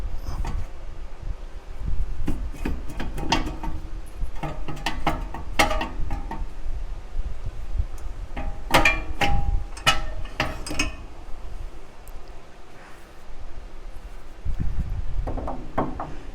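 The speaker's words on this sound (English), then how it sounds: "Then we'll pull the caliper off and set it aside." Brake caliper being pulled off a 1998 Honda Prelude, giving scattered metallic clicks, scrapes and clanks of varying loudness over a low background, close by and with no talking.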